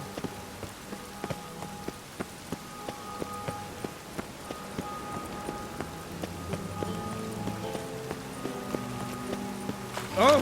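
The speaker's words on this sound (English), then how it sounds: "Oh, rain like this would fetch a fortune." Steady rain patters in the video game The Witcher 3: Wild Hunt, a soft continuous hiss with regular sharp ticks and clip-clopping steps, plus faint tonal music in the background.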